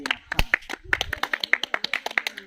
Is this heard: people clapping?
yes